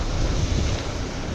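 Wind gusts roar outdoors by the sea, buffeting the microphone with a steady, loud rush and a low rumble, no voices.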